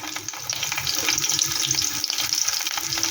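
A large onion frying in hot oil in a wok, a bright, steady crackling sizzle with small bursts as it is stirred.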